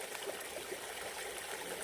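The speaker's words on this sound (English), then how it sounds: "crystal clear water, guys. Look at that. This little stream here." A small, crystal-clear woodland stream trickles and babbles steadily in a snowy Pennsylvania wilderness, a soft continuous flow heard close with no voices.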